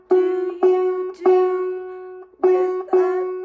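Banjo picking the Drunken Sailor melody, thumb striking open strings note by note, five plucked notes with ringing decay and a short pause before the last two, played alone and close.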